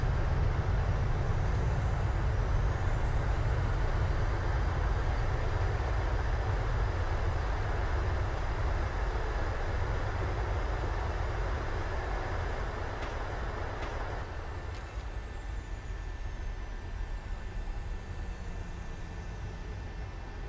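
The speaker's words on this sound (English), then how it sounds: "Bit heavy on the nose wheel and reverse is engaged." A PMDG 737-700 in a flight simulator roars with reverse thrust after landing, a loud, steady, broadband engine rush that holds for a long stretch, then eases and thins partway through while a faint whine lingers.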